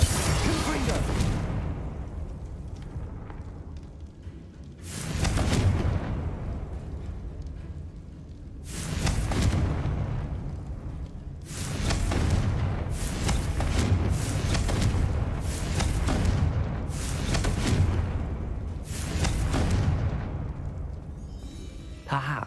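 Spell explosions from Bombarda and Confringo in the video game Hogwarts Legacy come as a series of loud booming blasts with whooshing tails, spaced irregularly and then clustered rapidly, over a rumbling combat background.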